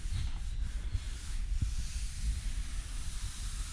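Car bodywork on a Sierra Sapphire is sanded with 120-grit paper, giving a steady, close, hissing rasp that runs continuously throughout with a low rumble underneath.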